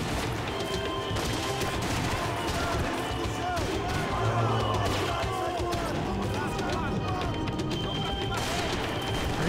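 Gunfire in the video game Max Payne 3 crackles through a busy, dense game mix, with scattered shots and crashing effects while a voice talks over it.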